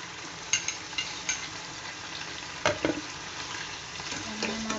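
Garlic and onion sautéing in a hot pan, a steady sizzle broken by a few sharp spatula scrapes and clinks, close and unaccompanied by talk.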